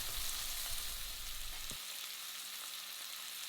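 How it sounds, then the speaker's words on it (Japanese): Bone-in veal searing in a frying pan over medium heat, a steady broadband sizzle, close and continuous, with a brief low thump partway through as the meat settles. "もう片面も焼き固めていきます。"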